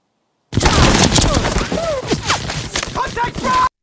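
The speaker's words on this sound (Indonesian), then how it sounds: "tiba-tiba mereka ditembaki musuh dengan menggunakan tembakan mesin dari arah depan" Rapid bursts of machine gun fire crackle loudly and continuously, with shouting voices mixed in among the shots.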